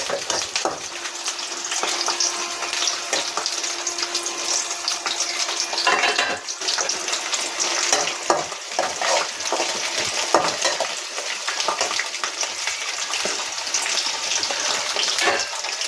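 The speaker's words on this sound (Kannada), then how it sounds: "ಬೆಳ್ಳುಳ್ಳಿ, ಇದೆರಡು ಸ್ವಲ್ಪ ಫ್ರೈ ಆಗಲಿ ಫ್ರೆಂಡ್ಸ್." Garlic fries over a medium flame in a pan for chicken bassaaru, a steady bright hiss and crackle broken by occasional stirring clinks.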